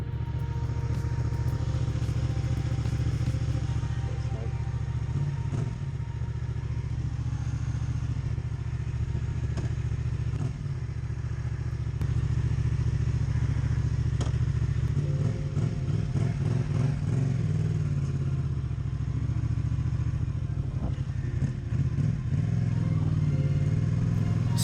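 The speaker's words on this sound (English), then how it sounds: "I did fit a Arrow exhaust system on there" A Yamaha Tracer 700 with an Arrow exhaust burbles and runs steadily nearby, its low engine note growing louder and more revving in the second half, with no talking.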